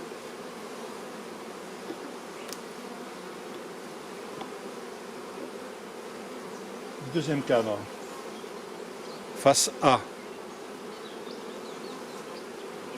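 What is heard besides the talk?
honey bees buzzing during a beehive frame inspection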